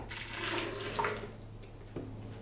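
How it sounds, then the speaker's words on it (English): Homemade raw nut milk poured back into a blender jug, a steady liquid splash lasting a couple of seconds with a small knock near the end, close and moderately quiet, with no voices. "So what I'm gonna do is pour this back in here."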